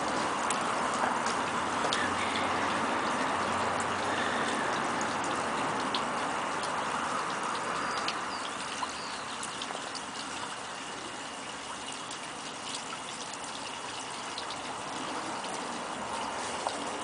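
Water from a hose pours steadily into the top tank of a homemade spiral pump water wheel, a continuous splashing gush with faint ticking throughout, no talk.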